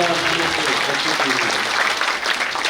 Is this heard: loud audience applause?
yes